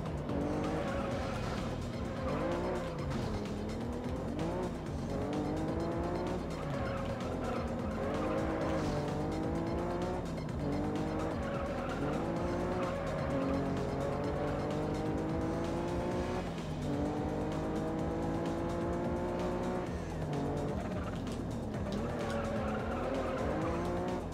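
Race cars in the video game Juiced roar with rising and falling engine pitch, punctuated by tire squeals and skids, sustained over a long continuous stretch with no talk.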